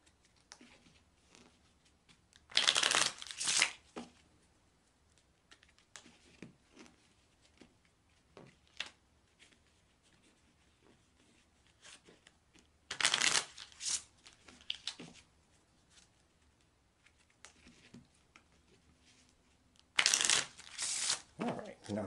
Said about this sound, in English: Now, I'm shuffling for the card to place beneath gift.